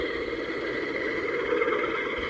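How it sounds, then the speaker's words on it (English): G scale CN Alco S4 switcher model locomotive with a sound system, giving a steady low engine rumble as it pulls away under load, quiet and constant. "Listen to that little rumble you hear once we take off."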